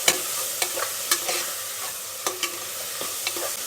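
Capsicum stir-fried in a hot pan with a steady bright sizzle, broken by repeated scrapes and taps of a spatula at an irregular rhythm, close up and without speech.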